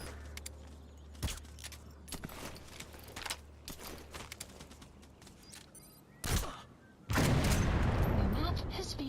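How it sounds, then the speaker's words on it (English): In the Metal Gear Solid V: The Phantom Pain game, scattered sharp bursts and clatter give way to a sudden heavy blast, then a loud, sustained roaring rumble at the end, with game voices faintly present. "did you see that explosion?"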